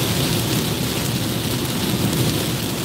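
Heavy rain pours in a dense, steady roar with a low rolling rumble of thunder beneath it, constant and close throughout with no voices.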